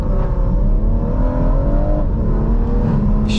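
Tuned 480bhp stage 2 BMW M140i accelerating hard, a loud continuous engine roar whose pitch climbs steadily through the gears, heard from inside the car with no talking.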